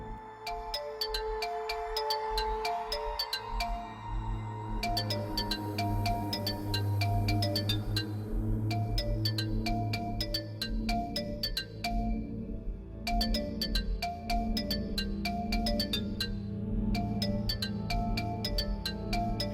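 A mobile phone rings on and off in a melodic ringtone pattern under a steady music bed, coming through in repeated bursts with short gaps between them.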